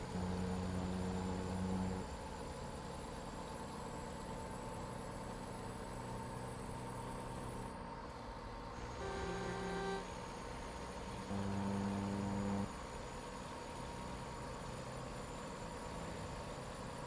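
Heavy modded truck engine idling in American Truck Simulator, a steady low rumble with tonal hum, shifting pitch briefly mid-way as it revs slightly, loud and continuous with no talk.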